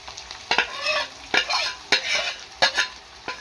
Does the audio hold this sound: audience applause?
no